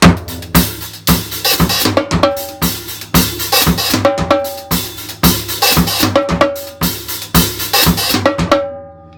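A tribal-style drumset groove in 4/4 repeats steadily, with deep tom hits and a ringing timbale accent recurring each bar, loud and close with no voices.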